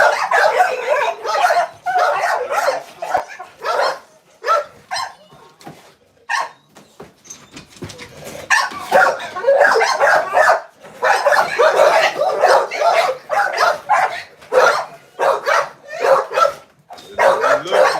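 Several dogs bark and yip in loud, rapid bursts behind a door, with whimpers between the barks and brief pauses. A person talks faintly in the background.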